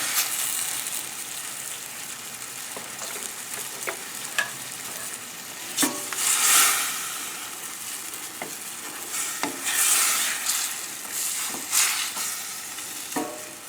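Scallops and shrimp sautéing in a pan with wine, a steady hiss of frying broken by several sharp scrapes and stirs, with no talking.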